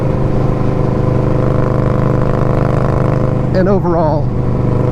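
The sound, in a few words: motorcycle exhaust revving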